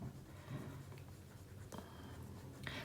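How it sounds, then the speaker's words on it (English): A pen scratching across the paper of a journal, quiet soft strokes with a few brief pauses and small taps, close by with no talking. "I'm going to write the December"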